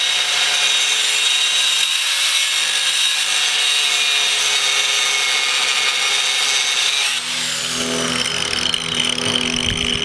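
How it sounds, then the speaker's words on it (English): An angle grinder cuts out a steel knife blank with a continuous, loud, harsh scraping whine. Near the end its pitch shifts and the tone becomes thinner. "I'm going to cut that out with the grinder."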